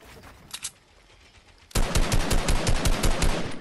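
Rapid automatic gunfire in a shooter video game erupts after a quiet stretch with a couple of faint earlier pops, continuing as a loud, dense burst of shots to the end.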